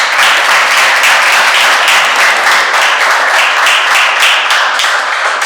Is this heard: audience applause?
yes